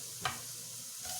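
Lightly browned onions sizzle softly in a pan after turmeric powder goes in, a faint steady frying hiss with a couple of brief scraping stirs.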